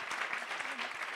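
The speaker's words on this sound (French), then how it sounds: "moi, je trouve que ces super fundraisers méritent un énorme applaudissement" Brief burst of audience clapping at a fundraising conference, a dense, fairly quiet patter of many hands.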